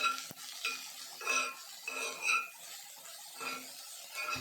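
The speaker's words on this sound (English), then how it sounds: "Give this a good mix." Beans thoran being stirred in a pan, soft clinks and scrapes of a spoon against metal in a few separate strokes, quiet and close with faint sizzling beneath.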